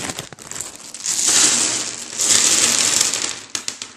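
Dice from the Quarriors board game rattle and clatter in a bag, a loud crunchy shuffling in two sustained surges with sharper clicks at the end, with no talk over it.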